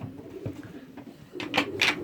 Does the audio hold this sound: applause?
no